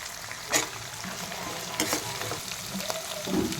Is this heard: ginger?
yes